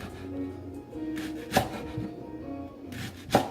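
A knife chops through washed leeks on a cutting board, a few sparse, soft thuds spaced out over a quiet kitchen background.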